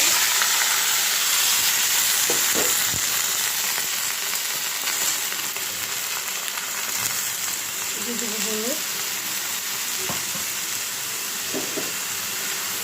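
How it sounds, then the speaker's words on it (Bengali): Bottle gourd and tomato sizzle in hot oil already seasoned with fried dried red chillies and fenugreek, giving a loud, steady hiss that fills the whole stretch, with a few faint knocks and a brief voice in the background. "শুকনো মরিচটা ভাজা হয়ে গেছে এখন দিয়ে দিবি লাউ আর টমেটো"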